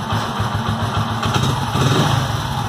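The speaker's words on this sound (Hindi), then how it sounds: "स्टार्ट हो गई गाड़ी, आप आवाज सुन सकते" Right after starting, a small petrol vehicle engine with a newly replaced fuel tap idles close by with a loud, even, rattly putter and no voices.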